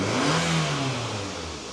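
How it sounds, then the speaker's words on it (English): A Toyota Camry engine with a cylinder misfire revs up briefly, recorded close by: a steady mid-range engine note rises and holds, then slowly fades over under two seconds. "Let's see what happens if we rev on it just a little bit."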